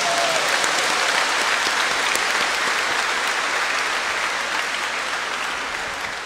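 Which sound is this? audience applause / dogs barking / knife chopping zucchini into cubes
audience applause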